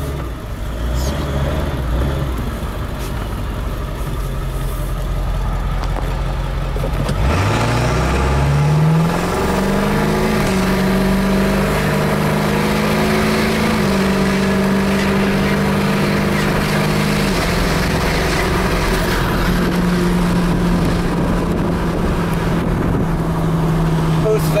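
A 7.3 Powerstroke diesel truck with a TS chip on a 100 horsepower tune accelerates hard from a rumbling idle, its engine note climbing through several gear shifts, loud and close from inside the cab, with a voice talking under it.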